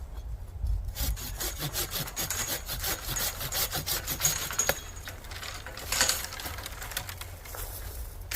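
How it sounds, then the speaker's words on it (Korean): Peach tree branches being pruned, steady rapid rasping strokes of a pruning saw through wood running throughout, close and clear with a few louder bursts, no voices. "너무 이렇게 튀어나와 있는 가지들은 정리를 합니다"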